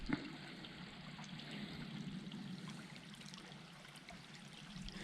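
Water trickles and flows steadily in a creek along a forest trail near an inlet on Vancouver Island, a soft continuous babble heard fairly close with no talking.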